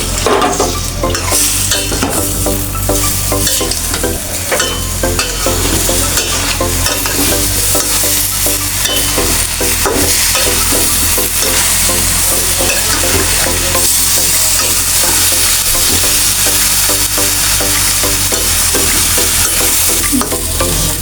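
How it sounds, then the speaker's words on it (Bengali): Fried cauliflower pieces stirred through hot oil in a pan for a koi fish and cauliflower curry, giving a steady loud sizzle with repeated scraping and clacking of the spatula throughout. "এখন আমি ভাজা কপিগুলো দিয়ে দেব।"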